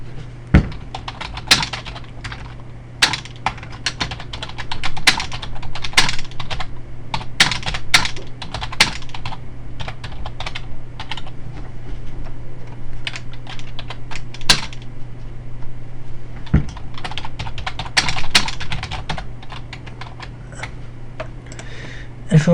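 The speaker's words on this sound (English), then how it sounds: "I'll type in my note." Someone types a note on a computer keyboard, a close run of rapid, uneven key clicks with brief pauses, over a steady low hum.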